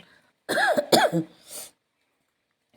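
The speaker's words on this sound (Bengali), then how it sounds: "এডিটও করতে পারছি না কাশির জন্য" A person coughs in a short burst of several harsh coughs, loud and close, followed by silence, on a rainy day at a train station.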